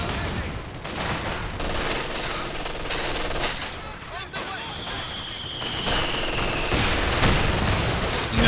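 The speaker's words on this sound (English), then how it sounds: "Now with this mortar fire we should easily deal with these positions here." Mortar fire and gunfire in Company of Heroes 2, with dense overlapping bursts of shooting and explosions rumbling continuously throughout, loud and near, plus a whistling tone sweeping down midway.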